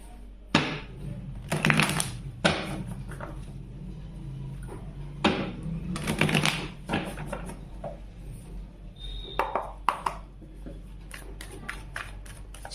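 Tarot cards are shuffled by hand in repeated bursts of quick riffling and slapping, close and fairly quiet, separated by short pauses.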